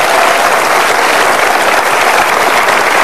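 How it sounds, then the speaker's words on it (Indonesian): Lively applause from a television talk show studio audience welcoming a young guest, dense and loud, filling the whole stretch evenly with no speech over it. "Ya, sekali lagi kita berikan tepuk tangan yang meriah untuk Zelda Maharani di sini."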